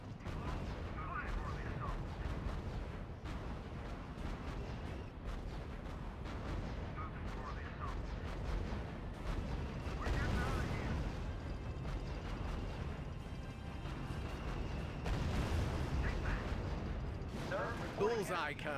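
Artillery fire on a Panzer IV tank in R.U.S.E., heavy booms and rumbling blasts repeating across a battle din, with voices speaking over it.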